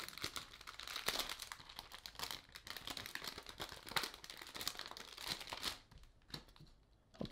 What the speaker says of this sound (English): So let's unwrap this one and have a look at the blue